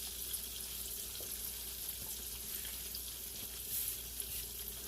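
Chicken fries in home-rendered lard in a pot, giving a steady, moderately quiet sizzle and crackle with faint scattered pops, no voices over it.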